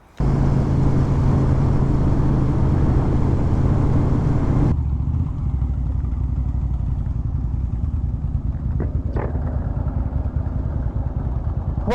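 A Suzuki TL1000R motorcycle engine drones loudly and close at a steady pitch under riding, then abruptly drops to a lower, rougher rumble with a couple of brief clicks and pops, continuing without speech.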